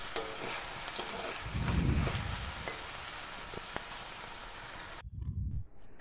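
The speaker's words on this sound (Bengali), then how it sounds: "পটলটা প্রথমে নুন হলুদ দিয়ে একটু ভেজে নিই" Pointed gourd frying in a pan with salt and turmeric makes a dense, steady close-up sizzle, with occasional soft thumps as the pieces are stirred and turned. The sizzle briefly thins near the end.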